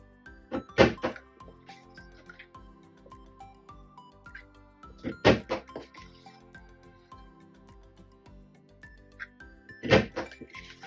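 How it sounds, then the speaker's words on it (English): An envelope punch board trims a paper corner at a crafting table, giving three sharp punchy thunks spaced a few seconds apart, close and crisp, with small rustles and taps of paper handling between them. "right where the score marks overlap, we're trimming off that little corner"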